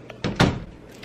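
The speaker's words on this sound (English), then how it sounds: "I'm gonna close this before it slams on me" An indoor door swings shut with a soft whoosh and then one solid thud, close and fairly loud, with no talking.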